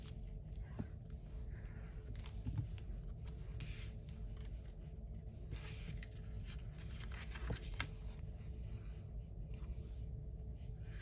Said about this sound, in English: Take our scissors and cut the extra off of here.